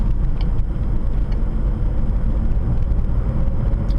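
Steady low rumble of a car driving on an open road during a driving lesson, with engine and tyre noise heard from inside the cabin, loud and continuous, with no clear change in speed.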